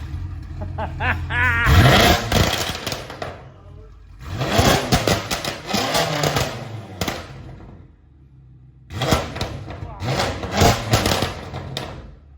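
BMW M6 V10 engine revving hard in three loud bursts, each climbing to a howling, rasping roar then dropping back, with brief quieter gaps between and a voice under it.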